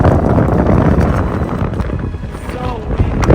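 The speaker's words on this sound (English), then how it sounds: "So windy and it's so cold." Strong wind buffets the microphone in a steady, loud roar throughout, with no voices, in cold fog at the summit of Mount Kosciuszko.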